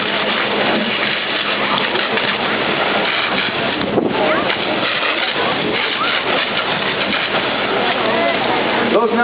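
Fire hose nozzle at about 100 psi blasting water into a burned building during fire extinguishing, a loud continuous rushing hiss with a voice talking over it.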